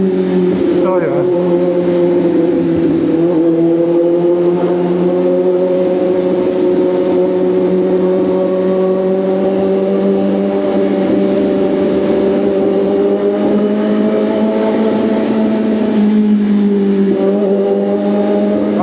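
Steady engine hum and road noise from slow-moving traffic heard from inside a vehicle, with a person talking over it throughout.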